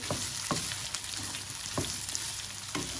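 Chicken sautéing with black pepper in a hot pan, a steady close sizzle with a few sharp scrapes of stirring spaced through it.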